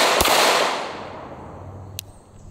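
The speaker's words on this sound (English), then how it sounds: "We'll put 5 rounds through each and we'll go ahead and start with the afterburner." A Glock 19 pistol fitted with a Ramjet afterburner fires a single sharp, loud shot that decays into a long echoing tail, followed by a faint metallic click.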